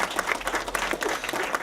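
Brief burst of audience applause at a commemorative gathering, a fairly close, uneven patter of clapping hands from a modest crowd, fluctuating in intensity across the short span.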